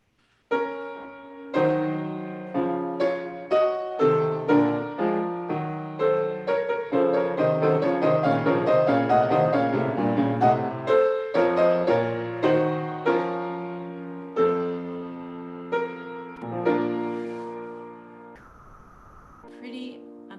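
Piano performance of a Bach fugue passage in dense overlapping voices, with the subject in stretto and inverted in the bass and tenor, played cleanly and loudly for about eighteen seconds before a brief noise at the end.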